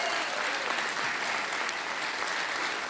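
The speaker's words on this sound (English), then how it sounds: "get another round of applause" Audience applause at a birthday concert, a dense, steady wash of many hands clapping throughout, even and sustained without breaks.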